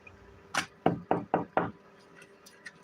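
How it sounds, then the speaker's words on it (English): Knocking on a door: one knock, a short pause, then four firm evenly spaced raps, close and distinct, followed by faint background sounds. "Knock, knock."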